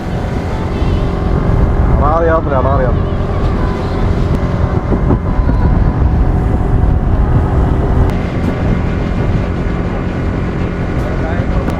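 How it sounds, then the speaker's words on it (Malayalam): A motorboat carries passengers along a canal near Azhikkal in Karunagappally, its engine a steady, loud drone with wind buffeting the microphone throughout, while people talk over it. "ബോട്ടിൽ യാത്ര"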